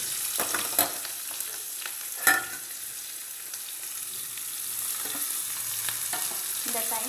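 Onions and green chillies sauté in a hot pan while salt is added, a steady close sizzle with a few louder stirring scrapes, no voices.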